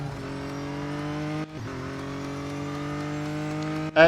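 A car engine drones steadily in the Real Racing 3 video game, with a brief drop around a gear change and a sharp rev rising at the end.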